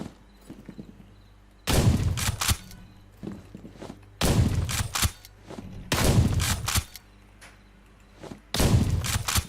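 Four loud shotgun blasts breach doors in a tactical first-person shooter, each a heavy boom trailed by a short clatter, separated by quiet pauses.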